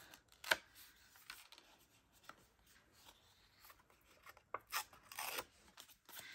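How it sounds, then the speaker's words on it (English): Scrap paper is torn by hand in short, faint ripping strokes, a few quick tears and rustles spaced irregularly with quiet gaps between them. "rip this part and make this part messy"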